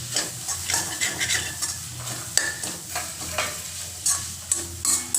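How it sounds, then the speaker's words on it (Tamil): A spinach and egg mixture being stirred in a hot pan, with a continuous sizzle and repeated scraping, clinking spatula strokes against the metal at an irregular rhythm, close and fairly loud. "நல்லா மிக்ஸ் பண்ணிக்கோங்க."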